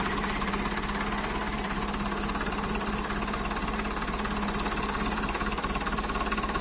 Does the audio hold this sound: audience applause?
no